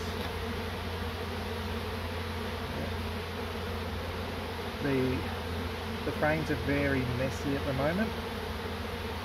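Dense honey bee buzzing from a swarm being moved out of a tree hive into frames, a constant close hum with louder surges as the bees are shaken, under a man's speech.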